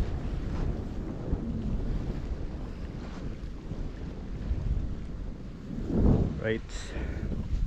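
Steady wind buffets the microphone at a seaside fishing spot, a constant low rumble with gusts, while someone speaks briefly in the background.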